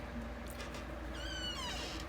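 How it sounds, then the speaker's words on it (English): A cat trying to get out meows, one drawn-out wavering cry rising late in the moment, fairly faint over a steady low hum and room noise. "I got a cat trying to get out"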